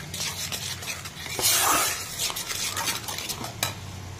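Spice masala with salt, turmeric and chilli powder is stir-fried in a pan, a close sizzling hiss with repeated scraping strokes of a spoon on metal and a louder surge of frying partway through.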